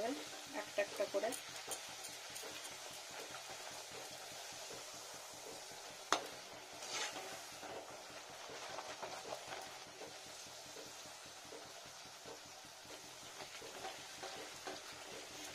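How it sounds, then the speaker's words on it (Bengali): Puri made with spinach and radish frying in hot oil, a soft continuous sizzle and crackle with light bubbling and occasional louder pops, faint and steady in the background, with no talking over it. "সব কটা ভেজে নেবো এভাবে একটা একটা করে।"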